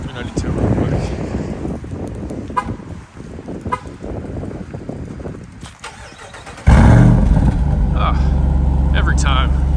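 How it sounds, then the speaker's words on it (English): A Jeep 392 V8 fires up by remote start, a sharp crank and roar followed by a loud, steady deep idle, after windy outdoor noise and a person talking. "do one more final remote start with the Jeep 392"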